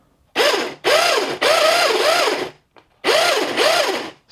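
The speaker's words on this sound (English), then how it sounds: "It's quite noisy, that gearbox" Radio-controlled drift car gearbox whining in loud bursts as the throttle is blipped, rising and falling pitch sweeps with grinding gear noise, three main runs separated by short pauses, close up and with no talking.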